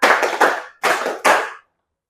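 Three sharp hand claps in a counting game, close and loud, each with a brief room decay: two quick claps, a short pause, then a third, followed by silence.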